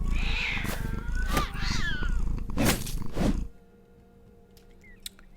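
A cat in Battle Brothers, a medieval tactics game, lets out several drawn-out meows and yowls over a dense game soundscape, then everything drops to near silence with a few faint clicks.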